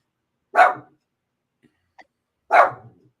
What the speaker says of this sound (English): stop barking, especially if you're just going to bark under the table